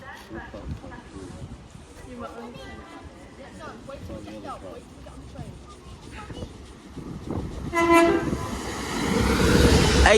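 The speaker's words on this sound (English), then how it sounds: "GWR preparing to pass through." A GWR passenger train passes through Dawlish, Devon, on a seaside route, its rumble building steadily and growing loudest toward the end, with a horn-like tonal burst near the close and some voices in the background.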